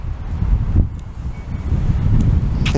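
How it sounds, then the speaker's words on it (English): Gusting wind buffets the microphone at an empty children's playground in the US, a steady low roar with brief louder swells and no voices. "Oh, it's windy."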